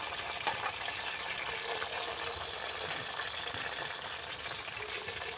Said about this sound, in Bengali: এবারে হালকা ফ্লেমের মধ্যে এগুলো সবগুলো ভাজা হবে